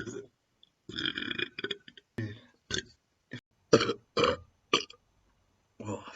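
A man lets out a series of burps after drinking beer, some long and croaking, others short and clipped, loud and close with brief pauses between them.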